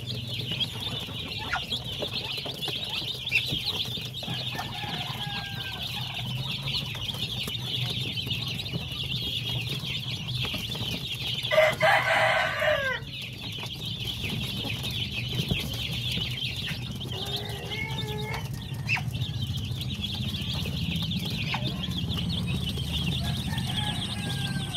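Darag native chickens in a backyard farm give scattered clucks and calls over a steady outdoor hum, with a brief burst of louder commotion midway.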